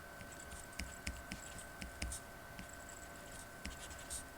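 A stylus writes a short phrase on a graphics tablet, making soft, faint scratchy strokes and light taps at an uneven pace, close by in a quiet room.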